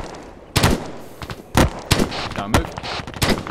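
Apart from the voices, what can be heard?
gunfire in the video game ArmA 3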